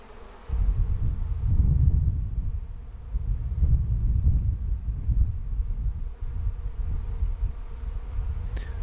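A swarm of honey bees buzzes loudly and continuously nearby, a dense low drone that swells and eases in waves with faint wind noise, and no talking.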